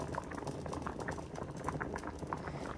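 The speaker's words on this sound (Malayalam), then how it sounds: "തിളപ്പിക്കുവാണ്." Payasam bubbles in a pot on the stove, a steady, soft, close simmer of popping bubbles with no pauses and no talking.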